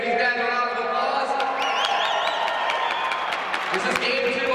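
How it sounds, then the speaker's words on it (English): A crowd in a hockey arena applauds and cheers during a charity hockey challenge game, with broad sustained clapping and a roar that fills the space beneath an announcer's amplified voice. "Can we give these guys a round of applause?"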